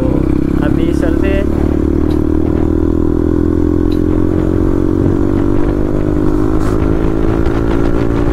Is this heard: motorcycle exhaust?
yes